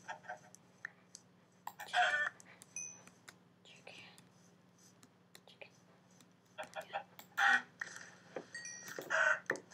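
Chickens cluck in a video game world, short scattered clucks and squawks in several bursts, some louder and close, over a quiet steady hum and soft clicks.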